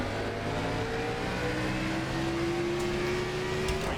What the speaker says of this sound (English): I thought I heard a car on my left side.